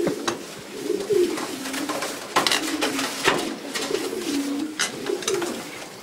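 Racing pigeons coo in a loft, several birds making repeated soft, throaty rolling calls at close range, with wing flutters and small scuffles between the coos and no talk.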